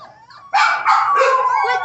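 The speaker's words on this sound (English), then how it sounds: "Are those your puppies?" Puppies whimper and yip in a short, close burst of high, wavering cries after a brief quieter moment.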